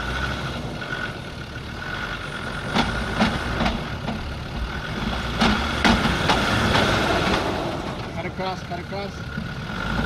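A 4x4 engine labors at low revs while crawling off-road over wombat holes near Lithgow power lines, with a steady rumble, occasional clunks and creaks from the suspension, and voices talking over it.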